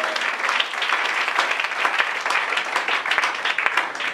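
A church congregation applauds steadily and loudly, dense clapping filling the whole stretch without pause and with no talk over it.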